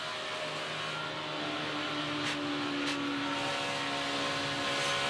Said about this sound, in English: You can just hear a little bit of hesitation as the car bounces over the bumps